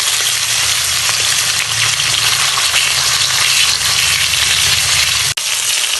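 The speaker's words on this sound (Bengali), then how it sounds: "মাছগুলো ভাজা হয়ে গেছে।" Pieces of katla fish fry in hot oil in a pan over medium-low heat, producing a loud, steady close-up sizzle that briefly cuts out near the end.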